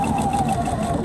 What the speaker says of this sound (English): You can see I've already started stitching this